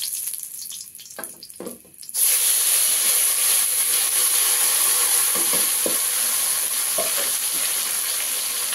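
Masala paste for aubergine masala sizzles steadily in a hot pan, a loud continuous fry starting after a couple of seconds of quieter kitchen clatter, with occasional stirring scrapes underneath.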